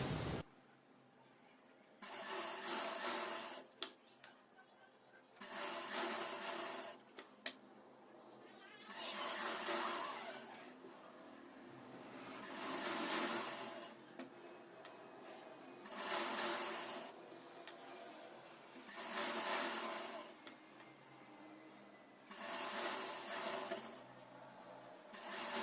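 A sewing machine stitches the waistband of a saree petticoat in about seven short whirring runs of a couple of seconds each, separated by quiet pauses, fairly soft and close.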